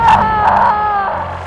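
A woman screams in a dashcam audio recording, a loud, drawn-out tonal wail in a few swells, close and harsh, with no talking.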